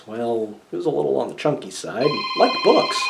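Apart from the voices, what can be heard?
phone ringing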